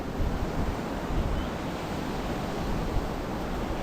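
Steady, dense roar of ocean waves breaking at Bhandarpule beach on the Konkan coast, continuous broadband surf with wind rumble and no distinct pauses.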